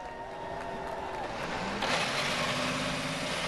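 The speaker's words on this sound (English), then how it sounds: "Drivers, start your engines!" IndyCar race car engines fire up at the start of the Big Machine Music City Grand Prix on the streets of Nashville, a broad rumble swelling louder as more engines catch and rev, with no talk over it.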